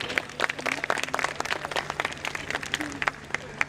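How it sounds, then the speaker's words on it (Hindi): An annual day celebration audience claps for the children: a scattered, uneven patter of applause with sharp individual claps and crowd murmur beneath, over a low steady hum. "जोरदार तालियां इन प्यारे बच्चों के लिए।"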